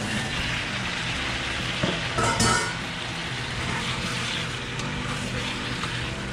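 Chicken being stirred in a hot pan for kinamatisang manok gives a continuous sizzle with a few brief scraping and clattering bursts midway, close and fairly even.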